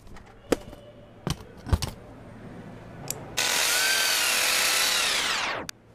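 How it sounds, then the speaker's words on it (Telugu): A power drill driving screws into marked spots, with a few sharp knocks and taps first, then one steady loud whirring run of about two seconds that winds down abruptly, with no talk. "మార్క్ చేసిన చోట స్క్రూలు డ్రిల్ చేయి సరేనా?"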